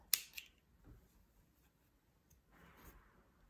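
Scissors snipping crochet yarn at the end of a crocheted throw pillow: a sharp, faint cut near the start, a second smaller click, then quiet handling rustles.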